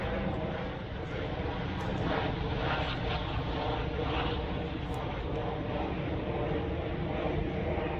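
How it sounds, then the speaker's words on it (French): A helicopter sound effect plays in a theatre as a dense, continuous rotor and engine roar, loud and steady, with faint voices beneath it. "On peut arrêter le bruit des hélicoptères pour le tissage de voix féminine"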